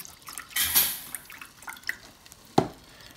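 Liquid, apparently salsa, is poured into an Instant Pot while shrimp and mofongo cook, giving a short splashy burst followed by scattered drips and one sharp clink near the end, close and fairly quiet.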